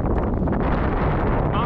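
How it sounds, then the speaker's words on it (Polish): Loud, rough, strong gusty wind roars against the microphone while riding uphill, in continuous gusty buffeting, filling the whole moment with heavy rumbling noise. "Bardzo silny, porywisty wiatr."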